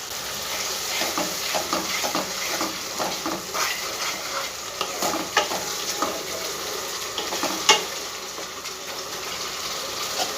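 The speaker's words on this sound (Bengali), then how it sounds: "খুব ভালো করে মশলাটা আমি ভাজবো" Spice paste for onion curry frying in a pan, a continuous close sizzle broken by repeated scraping and stirring strokes of a spoon against the pan.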